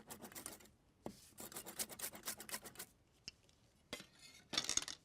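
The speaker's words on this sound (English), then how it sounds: "And get chopping." Knife chopping fresh parsley and mint on a board in a home kitchen, heard as quick runs of crisp taps in bursts with short pauses between them, close and fairly quiet.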